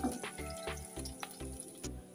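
Vegetables fry with ginger, garlic and chili paste in a pan, sizzling loudly in a run of regular bursts as the mix is stirred, about eight quick pulses close by.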